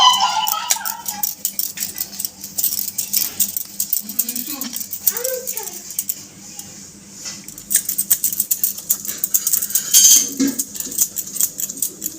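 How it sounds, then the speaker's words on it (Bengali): Rhythmic stone-on-stone grinding strokes rasp close by on a grinding stone, mashing boiled jackfruit seeds in a repeating back-and-forth pattern, with a few clinks and a voice speaking briefly. "সেদ্ধ করার দানাটা আমি শিলনার মধ্যে বেটে নেবো"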